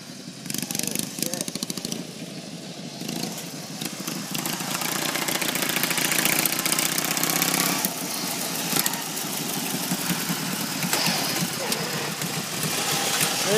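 A racing lawn mower tractor engine runs nearby, a raspy mid-pitched drone that swells and holds while people talk over it.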